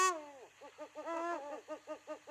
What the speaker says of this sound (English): What do you think the uhu sounds like?